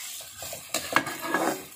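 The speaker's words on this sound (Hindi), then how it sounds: "हम इसको कंटिन्यूअस चलाते रहेंगे जिससे कि हमारी प्याज सारी अच्छे से भुन जाए" Onions and long-cut green chillies frying in a kadhai are stirred, producing a few scraping strokes over a soft, continuous sizzle, close up and without talk.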